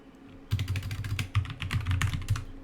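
Rapid keystrokes on a computer keyboard, an irregular burst of clicking taps lasting a couple of seconds, close and fairly quiet.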